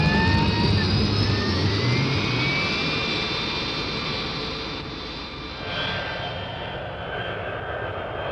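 BAC One-Eleven jet airliner taking off, a steady, loud roar of jet engines with a high whine on top, slowly fading slightly as it pulls away, with no talk over it.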